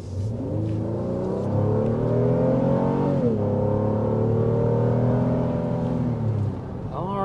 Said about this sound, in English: There's a quick burst of acceleration here in the all-new Pilot.